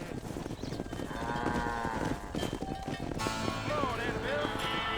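A cattle herd lows in the Red Dead Redemption video game, with several drawn-out moos overlapping on a ranch alongside faint hoof clip-clop and a busy game background.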